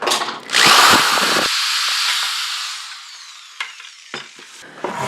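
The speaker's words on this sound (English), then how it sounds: "So let's drill a hole on the other side." A power drill bores a hole through the side of a can for a bucket mouse trap, giving a loud grinding whir that fades into a steady hum and breaks off into a few brief clicks and scrapes.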